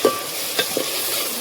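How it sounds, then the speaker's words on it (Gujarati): Tomatoes drop into a hot pan of sizzling onions for pasta, giving a short burst of loud, close frying hiss and a couple of faint clinks, with no voices. "હવે આપણે ટમેટા નાખી દઈશું."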